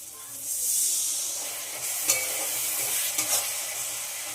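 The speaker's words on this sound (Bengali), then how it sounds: "অল্প করে দিয়ে দেব জল।" Water added to spices frying for dal fry, a loud hissing sizzle that swells then settles, with a few sharp stirring scrapes and clicks near the end.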